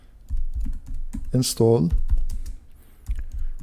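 Computer keyboard keys tapped in quick succession while a terminal command is entered, close and clear, with someone speaking over the typing.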